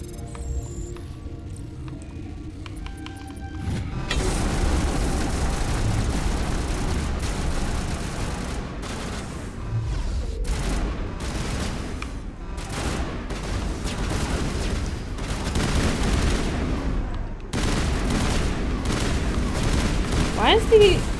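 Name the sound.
gunfire from enemies in video game Mass Effect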